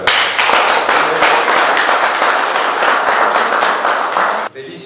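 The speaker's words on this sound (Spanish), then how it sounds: "Un aplauso para él." A crowd applauds at a cemetery renovation event, steady clapping from many hands that holds at full strength for several seconds before cutting off abruptly.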